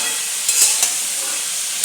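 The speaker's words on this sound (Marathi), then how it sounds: "वांग बटाटे टाकून दिलं आणि मग त्याला नीट फ्राय करलं. हलवून घ्यायचं नीट." Eggplant and potato frying in a pan as they are stirred, a loud continuous close-up sizzle broken by a few scraping stir strokes, with no voices.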